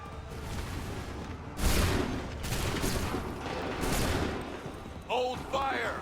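Volleys of musket fire from Assassin's Creed 3 Remastered, heard as several loud booming bursts of gunfire with rolling echo, followed by shouted voices near the end.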